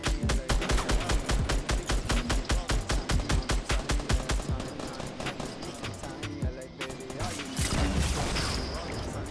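Rapid automatic gunfire from a Fortnite Battle Royale squad fight rattles in a fast, steady stream, followed by scattered shots and impacts, with players talking over the shooting.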